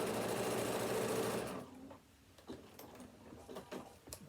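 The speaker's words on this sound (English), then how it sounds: "start stitching on the spare bit of scrap, and straight onto your piece" A sewing machine stitches a leather card wallet in a loud, steady run for about a second and a half, then stops, leaving a few faint clicks and handling taps.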